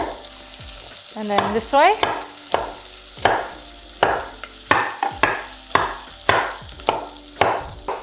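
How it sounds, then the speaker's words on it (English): A knife runs through cauliflower on a board in a series of crisp, close cutting thuds and crunches that repeat at a fairly steady rhythm, with one brief spoken phrase early on. "now I'm just going to run my knife through my cauliflower"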